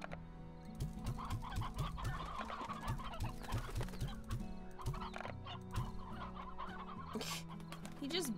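Chickens in the Slime Rancher video game cluck in rapid, repeated bursts, several birds close together over a busy game background, with occasional sharper squawks near the end.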